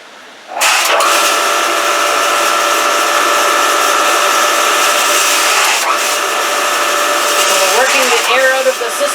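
A Series 1000 maple sap concentrator starts up abruptly and runs with a loud, steady whine and hum, with faint shifts in pitch as it settles.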